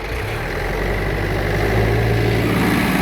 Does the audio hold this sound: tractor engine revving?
yes